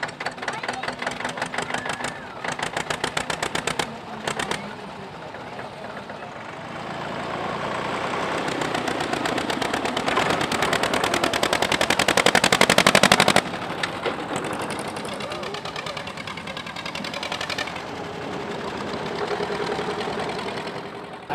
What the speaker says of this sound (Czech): jsem vlastně tento závod veteránů traktorů uspořádal